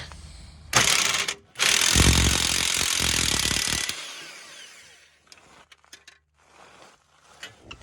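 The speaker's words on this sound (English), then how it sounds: "Then I'm trying out this impact gun" A cheap impact gun loosens bolts holding the catalytic converter on a 2010 Mazda 6, with two loud hammering bursts of about a second and two seconds, then fainter clinks and handling noises.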